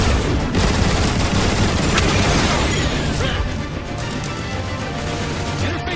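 Gun turrets firing in the video game Transformers: War For Cybertron, a continuous, loud wall of rapid gunfire and blasts lasting the whole stretch, with some voice underneath.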